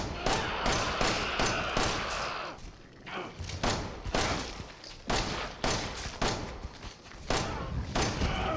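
Enhanced ammo fired in Resident Evil 7 sounds as a long run of loud, sharp shots, with one or two every second and a short lull midway, over a dense game soundscape.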